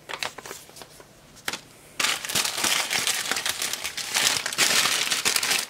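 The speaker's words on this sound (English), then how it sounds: "It's in a plastic bag." A plastic bag crinkles as a parcel of capacitors is unpacked, quiet rustling at first, then loud, close, continuous crackling and crumpling.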